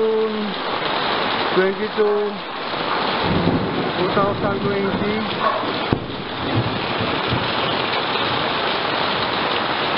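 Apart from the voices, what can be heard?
heavy rain falling on a house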